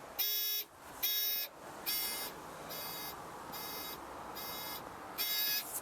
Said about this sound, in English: This turns all 4 lights on, and of course you've got the buzzer.